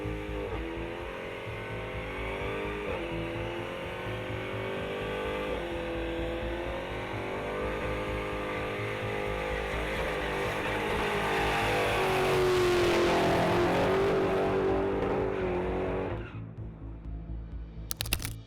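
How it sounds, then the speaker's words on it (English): A Dodge Charger performs a burnout, its engine droning steadily and climbing into a loud, roaring wail with screeching tire noise before dropping off sharply near the end, heard up close without voices. "hear the burnout sound of the Dodge Charger?"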